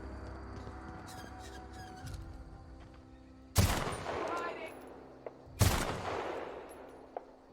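Two sharp rifle shots from an assault rifle in The Outer Worlds sci-fi video game, each a loud crack with a ringing tail, spaced about two seconds apart over a steady ambient hum.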